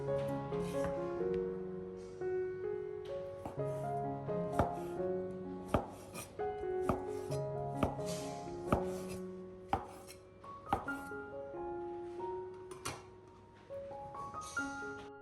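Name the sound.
knife slicing sausage thinly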